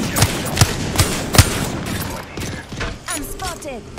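Sharp video-game gunshots crack in a quick run of four heavy bursts, then give way to lighter rapid fire, clicks and mechanical whirs as the action continues.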